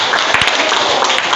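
Audience applause at a school outreach event at SMK Negeri 1 Sitolu Ori in North Nias, a steady wash of clapping from a crowd, dense and sustained without pause.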